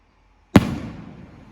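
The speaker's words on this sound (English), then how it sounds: "Big boy rockets now, yeah? Big boy rockets. Watch the bang on it." A big home-display firework rocket explodes in a single sharp, loud, close bang, its rumbling echo fading out over the following second with no voices.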